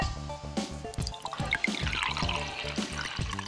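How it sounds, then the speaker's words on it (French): Toilet flush sound effect from The Urbz DS video game, a bubbly, gurgling rush of water layered over rhythmic game music that keeps playing throughout. "il y a eu le bruit de chasse d'eau en même temps"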